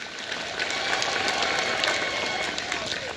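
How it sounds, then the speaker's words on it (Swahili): A congregation applauds steadily at a priest's silver jubilee church celebration in the home parish of Naitiri, a dense, sustained clapping that stays even throughout. "Makofi kwa Yesu."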